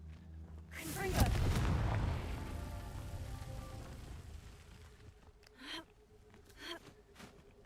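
A Confringo fire-blast spell goes off in the video game Hogwarts Legacy with a sharp burst and a rushing roar that fades over a few seconds. A few short, softer bursts follow later.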